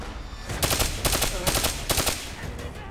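Rapid bursts of automatic gunfire from the video game Call of Duty Black Ops 3, several sharp clustered volleys of shots crackling in quick succession, loud and close.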